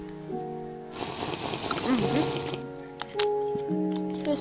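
Water being drunk in modded Minecraft to refill the hydration bar, a game drinking effect of splashy, watery gulping lasting about a second and a half, alone over a soft background of steady game tones.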